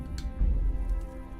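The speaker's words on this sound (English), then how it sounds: "Although if it keeps raining, I might have to" Rain in the medieval video game Kingdom Come: Deliverance, a low, soft patter and rumble of falling rain with a few brief brighter ticks, fairly quiet and continuous.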